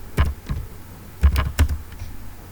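A few distinct, sparse keystrokes are tapped on a close computer keyboard while a code comment is typed, heard over a low steady hum with no speech.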